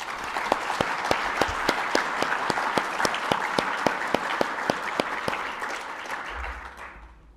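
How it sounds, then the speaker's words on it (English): Audience applause fills a congress plenary hall, a steady dense wash of many hands clapping for several seconds before fading out toward the end. "Could you all join me in a round of applause?"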